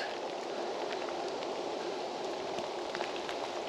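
Steady rain falls outdoors in a tulip garden in Crimea, a dense, even hiss of drops with scattered sharper patters, continuous and fairly close.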